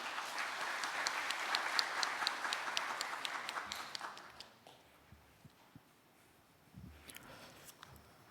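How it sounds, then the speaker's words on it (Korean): Audience applause at a fair-trade compliance symposium, welcoming a speaker to the stage: steady, dense clapping from a crowd for about four seconds, then fading to a few scattered claps and small stage noises. "여러분 따뜻한 박수로 함께 환영해 주시기 바랍니다"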